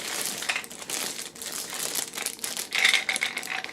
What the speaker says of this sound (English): Sounds like dice to me.